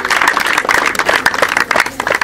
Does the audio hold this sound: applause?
yes